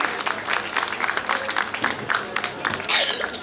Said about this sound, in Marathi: तर टाळ्या झाल्या पाहिजेत प्रकाशनाच्या वेळी